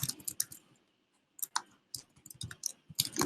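Bursts of clicky keystrokes on a computer keyboard during an email-editor demo, tapping in quick irregular clusters with short pauses between them, close and alone with no talking.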